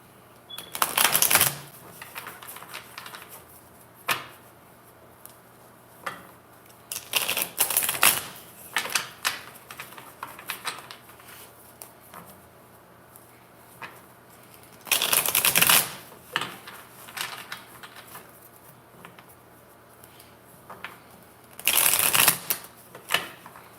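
Tarot cards are shuffled by hand in several quick riffling bursts, close and crisp, separated by quieter stretches of soft card handling and tapping.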